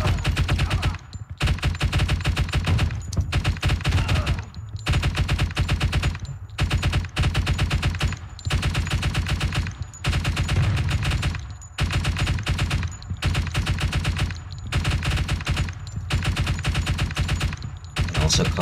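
Sustained suppressive machine gun fire from two support gunners in the night-time tactical shooter Door Kickers 2, long loud automatic bursts separated by brief pauses, with no talking.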